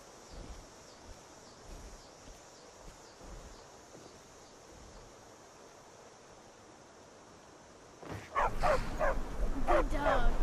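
A dog in the game Skyrim gives faint, scattered barks over a steady hiss of outdoor ambience, then a louder burst of voices and sound takes over near the end.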